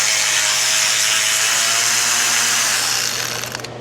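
A ratchet with an 11 mm socket spins nuts on a hose bracket during a transmission neutral safety switch repair, giving a continuous close buzzing whir that fades out near the end.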